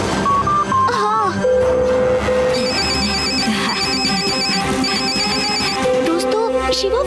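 A cartoon phone ringtone plays over and over, ringing unanswered with a steady repeating electronic melody, loud and close, set against background music.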